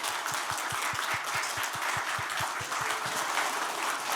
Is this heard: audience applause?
yes